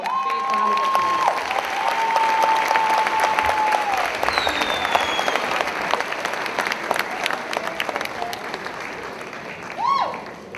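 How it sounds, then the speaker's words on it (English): Applause rolls through a graduation ceremony crowd, a continuous wall of clapping with a few whistles and cheers rising above it and a voice briefly heard amid the noise. "Please, let's give a big round of applause."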